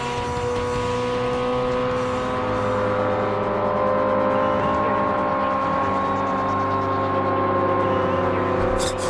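Porsche and Ferrari race cars roar together in Forza Motorsport (2005), steady layered engine drones with shifting pitch running loud and continuous throughout, with a brief tire squeal hinted near the end.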